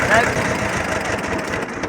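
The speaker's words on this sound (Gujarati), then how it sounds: "બાપુ લાવ્યા છે મિની ટ્રેક્ટર" A mini tractor's engine runs in a steady low, pulsing chug, close by, with voices talking over it.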